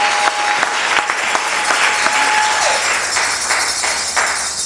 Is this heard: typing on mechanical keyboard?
no